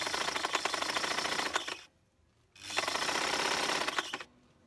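A sewing machine runs a zigzag stitch on stretch fabric in two fast rattling bursts, each nearly two seconds long, separated by a short pause and ending in quiet.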